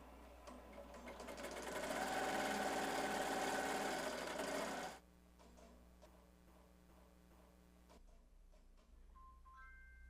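A Melco Summit embroidery machine stitches a logo onto a knit beanie, its rapid mechanical needle chatter loud and steady for about five seconds, then dropping to a quieter, rhythmic ticking run that thins out near the end.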